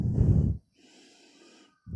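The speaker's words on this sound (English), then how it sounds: "as you are breathing in 1, 2, 3, 4. Hold in 1, 2. Breathe out 1, 2, 3, 4." A slow breathing exercise with paced breaths in and out: a loud, close breathy rush, then quieter airy breathing, then another loud breath starting at the end.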